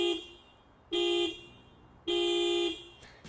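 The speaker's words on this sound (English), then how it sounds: "Honda has a habit of fitting its cars with the world's most pathetic sounding horns." A Honda Jazz horn honks twice, each a flat, thin beep lasting under a second, the second one longer. Both blasts are loud and close, with a brief high chirp at the end.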